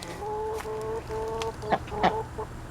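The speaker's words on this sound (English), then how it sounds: "Chickens." Chickens cluck nearby in a steady run of short, throaty calls, with a few louder squawks toward the end.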